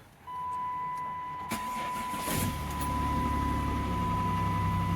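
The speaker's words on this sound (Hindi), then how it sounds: "ये जी गैस की गाड़ी, ये तो फिर भी आराम से स्टार्ट हो गई" A petrol car engine cranks and fires up at about -24 degrees in freezing winter weather, settling into a steady, close idle that hums on alone without talk.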